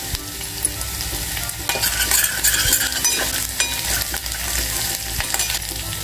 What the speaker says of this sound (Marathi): आलं तेलामध्ये चांगलं परतून घ्यायचं आहे।